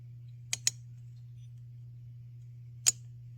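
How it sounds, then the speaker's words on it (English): Anti-rollback mechanism on a MAC 3200 chainsaw clicking in a quiet setting: two quick sharp clicks close together, then a single click a moment later, over a steady low hum. "Not sure what that clicking noise is."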